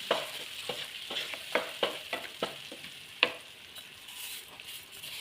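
A ginger curry mixture with onion and chilli is stirred in a hot pan for an Onam sadya, giving a run of quick spoon scrapes and taps over a soft sizzle, close and clear, no voices.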